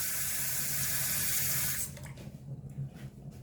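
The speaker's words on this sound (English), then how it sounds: "Let's let some of the water out." Water drains out of a bathroom sink after a wet shave, a steady rushing gurgle that cuts off abruptly partway through, leaving faint trickles and drips close by.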